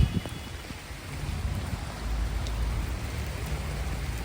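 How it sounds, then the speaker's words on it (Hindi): Rain beginning to fall outdoors after a strong dust storm, a steady soft hiss of drops building gradually, fairly faint with a low rumble underneath and no talking. "बारिश शुरू हो गई।"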